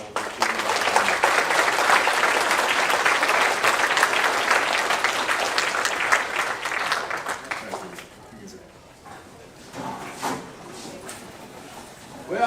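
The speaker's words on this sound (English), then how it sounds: "I would like a round of applause thanking all of the people." Full audience applause at a San Antonio commercial steer show awards ceremony, dense clapping from a large crowd for about eight seconds, then tapering into scattered claps and quiet room sound with faint voices.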